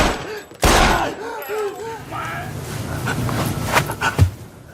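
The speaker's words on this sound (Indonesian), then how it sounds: "Melihat itu, Fukami tiba-tiba kalap dan menembaki Samiun berkali-kali." Pistol shots fired repeatedly in a film scene, a sharp loud blast early on followed by further scattered bangs amid reverberant action noise and faint voices.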